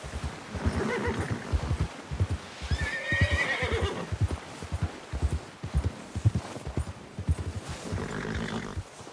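A horse in Red Dead Redemption 2 whinnies loudly while its hooves clip-clop in a steady galloping rhythm throughout. It is close and continuous, with no speech.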